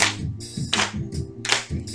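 Audience clapping hands in steady rhythmic bursts, close and continuous over faint background music.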